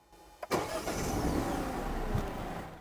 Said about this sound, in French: Donc en théorie là, ça redémarre, ça fait vroom vroom.